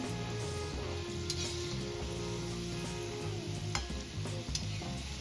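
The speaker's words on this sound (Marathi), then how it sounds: "इथे मी ऑइलमध्ये भाकरवडी ऍड करून घेतलेली आहे आता आपल्याला छान गोल्डन कलर येईपर्यंत तळून घ्यायची आहे भाकरवडी" Bhakarwadi pieces deep-fry in hot oil until golden, a steady close bubbling sizzle with occasional small pops and crackles, heard alone.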